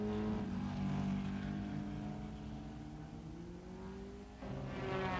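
A 1957 Maserati Formula 1 race car roars loudly at the German Grand Prix, its engine pitch climbing steadily under sustained revving, dipping briefly before surging again near the end.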